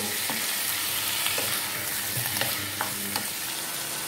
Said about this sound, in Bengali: দিয়ে আমি সামান্য 2 থেকে 3 মিনিট একটু ফ্রাই করে নেব